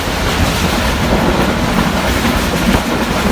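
A fast train travelling in Pakistan gives a steady, loud rumble of wheels and carriages with a continuous clickety-clack, heard close and unbroken throughout with no talk.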